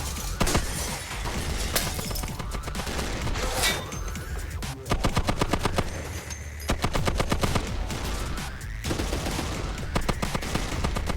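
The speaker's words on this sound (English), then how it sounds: "I'll take the M2 and aim at the rear, and we'll see which weapon system can penetrate the steel body first and actuate the charge" M2 heavy machine gun firing at the rear of a steel vehicle body, loud rapid bursts of heavy shots with clanging, shattering impacts, pausing briefly between strings of fire, with no talk over it.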